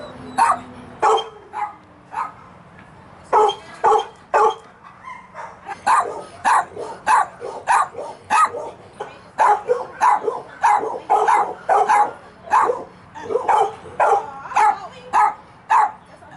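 Dogs up for adoption bark repeatedly in sharp, irregular bursts, loud and close, with some yips mixed in over a steady low background hum.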